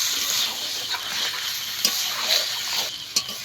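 Fish and spice paste with taro are stirred in a pan. The oil sizzles steadily throughout, and a spatula scrapes and taps against the pan now and then.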